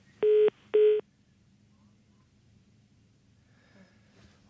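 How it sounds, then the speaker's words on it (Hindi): A telephone line cuts off during a call to a Hindi share-market show: two short, loud electronic beeps in quick succession, then only faint line hiss until the clip ends. "फोन लाइन कट हो गया।"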